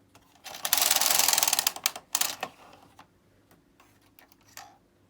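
A Bond knitting machine carriage drawn across to knit a row of garter stitch, a loud close mechanical rattling whir lasting about a second, followed by softer clicks and ticks.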